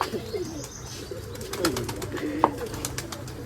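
Giribaz pigeons coo softly and repeatedly, a low murmuring warble close by, with a few faint chirps and light background rustle.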